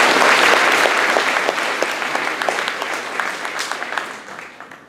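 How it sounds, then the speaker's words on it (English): Audience applause at a school concert, a loud dense wash of clapping that fills the room, then gradually thins and fades toward the end. "please give them one more round of applause as we begin"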